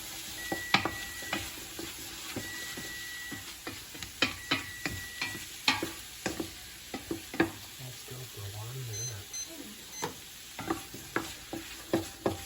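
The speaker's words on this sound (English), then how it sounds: "And we're going to stir that for about a minute. Cook it for about a minute until it's fragrant." Poblano peppers cooking in a pan while being stirred, a soft continuous sizzle broken by frequent sharp scraping and tapping strokes of the spoon at an uneven rhythm.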